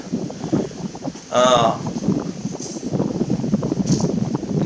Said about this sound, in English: it's just too much wind today. You can probably hear it on the speaker coming through here